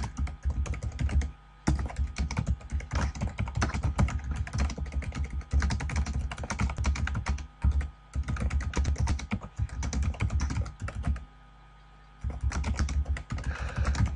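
Steady keyboard typing on a computer while notes are entered, dense continuous keystrokes with a few short pauses, close and clear with no talking.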